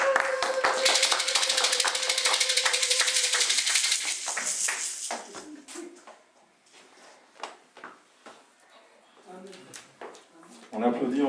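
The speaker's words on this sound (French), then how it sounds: "On applaudit encore pour ce beau message." A church congregation applauds after a sermon, dense clapping that fades out within a few seconds, followed by scattered taps and soft knocks with people talking.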